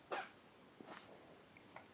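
A dog named Dexter gives one sharp, close sneeze, followed by a couple of faint snuffles and small breathy sounds in an otherwise quiet room.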